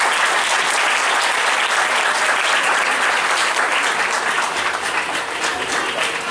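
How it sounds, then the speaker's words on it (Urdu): A church congregation at an Easter service claps in sustained, dense applause, steady and fairly loud for several seconds, with no talking. "خدا ان کے لیے تالیاں بجائیں"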